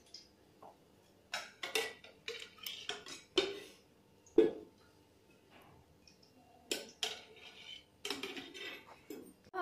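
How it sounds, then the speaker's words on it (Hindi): A kadhai is set on a gas stove while preparing matar paneer, producing scattered metallic knocks and clatters of differing strength, with a sharper clank near the middle, close and quiet with no talking. "हम गैस पर कढ़ाई रखते हैं"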